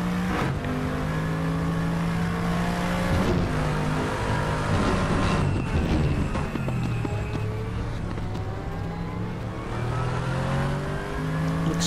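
GT3 race car engine in RaceRoom at Portimao: a loud, continuous, close engine note that climbs and drops through gear changes and hard braking, with no talk.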